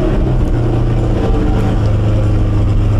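A 2020 Corvette C8 mid-engine sports car fires up and settles into a loud, steady engine rumble that continues unbroken throughout, close to the listener with no talk.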